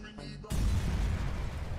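Sudden explosion from a Skibidi Toilet animation cartoon, a loud booming burst that cuts in abruptly after quiet and rumbles on briefly.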